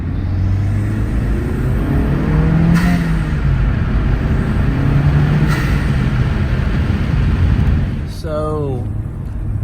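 A Honda Civic Type R FL5 with a PRL turbo inlet and stock exhaust pulls hard in second gear with the windows down, a loud steady engine drone and road rumble easing off near the end, with a voice briefly heard.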